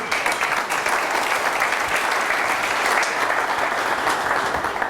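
Audience applause during an ACN business presentation, a dense, even wash of many hands clapping at a steady level throughout, with no talk over it.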